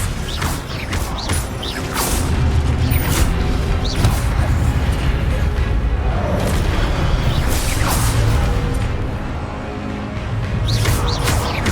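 Spell effects from the Hogwarts Legacy video game play out as magical whooshes, booms and mechanical rumbles, with sharp bursts repeating over a dense, loud game soundscape.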